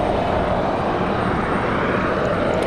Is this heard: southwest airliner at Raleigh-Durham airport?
yes